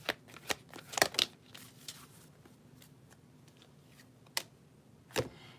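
A deck of soul's journey lesson cards is shuffled in several quick riffling bursts, close and fairly crisp, with quieter pauses and rustles between them and no voices.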